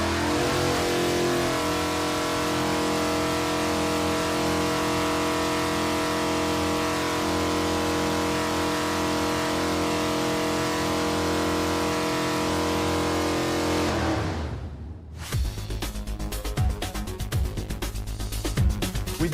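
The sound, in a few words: car engine running on dyno for baseline test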